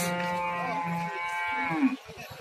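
A single long, loud moo from a cow close by at a livestock market in Kyrgyzstan, drawn out and falling at the end, with faint background sounds.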